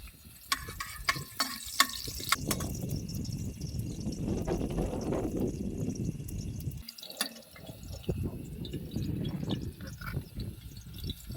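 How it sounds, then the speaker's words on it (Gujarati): Garlic goes into hot oil at a jungle camp stove, producing a close, crackling sizzle with spitting pops and some stirring scrapes, steady and moderately loud with no talk. "તેલ ગરમ થવા દઈશું થોડુંક. તો મિત્રો આપણે આમાં પહેલાં લસણ નાખી દઈએ."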